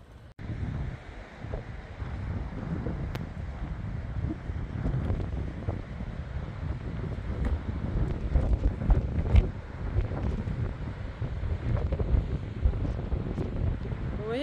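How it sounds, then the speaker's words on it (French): Wind on the coast near the Calanques buffets the microphone with steady, loud, gusty rumbling for the whole stretch, with no talking. "un petit peu de vent aujourd'hui"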